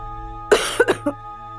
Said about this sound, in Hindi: माँ की खांसी बढ़ती जा रही